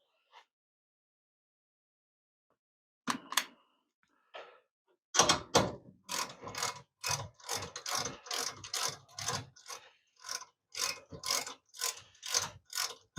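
A socket ratchet snugs up bolts during a tapered roller bearing upgrade on an Austin-Healey Frogeye Sprite, giving a few short clicks and then a long run of rapid, close, steady ratcheting bursts with brief pauses.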